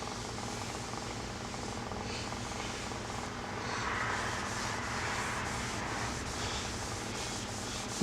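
Howard's Feed and Wax is rubbed by hand onto a natural edge walnut bowl, a soft continuous rubbing hiss that swells slightly midway, with no voices.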